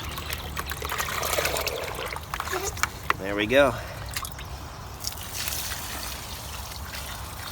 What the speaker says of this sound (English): And just kind of try to water it all of the top dressing.